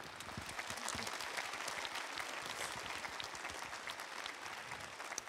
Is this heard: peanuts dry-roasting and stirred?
no